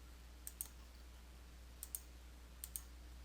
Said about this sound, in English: click Next to continue